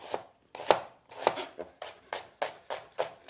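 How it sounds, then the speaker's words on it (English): A kitchen knife cutting julienne slices on a cutting board, about ten crisp, evenly spaced chops close up, each a sharp knock with a short scrape, steady and unhurried. "So I use my knife right on that. That's going to allow me to cut julienne slices."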